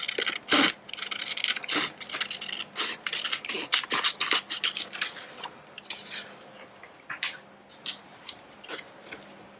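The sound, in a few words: cutting out an index-card-shaped pocket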